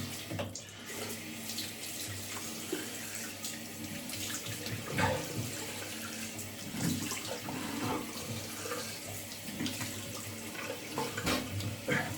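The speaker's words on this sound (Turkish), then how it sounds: "Şimdi yüzümü yine yıkıyorum arkadaşlar." Tap water runs steadily into a sink while a face is washed after a classic wet shave, a close continuous splashing flow with irregular splashes from hands and no talking.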